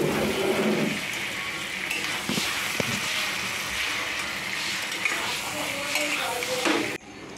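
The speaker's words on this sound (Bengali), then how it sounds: "এবার ভালো করে ঢাকা দিয়ে কষবো এটা যতক্ষণ না তেলটা যাচ্ছে" Chicken with masala fries in a pan with a steady, loud sizzle, broken by the scrape and clink of a spoon stirring against the metal, close by and with no talking.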